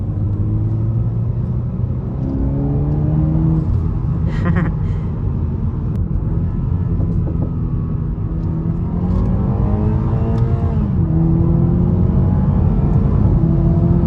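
A Toyota Supra 2.0 accelerating hard through the gears, engine note climbing in pitch, dropping at each shift and climbing again, loud and close with a steady drone underneath.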